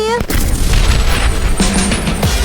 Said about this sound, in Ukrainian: Здається, я привела бомбу в дію.